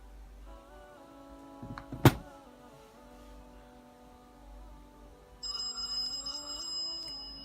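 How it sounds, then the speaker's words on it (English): A phone rings with an incoming call, starting as a soft repeating electronic tone under a low hum, then a sharp knock, before a brighter ringtone sounds a few seconds later, close and quiet. "there we go, there's a phone call. That's on the regular phone."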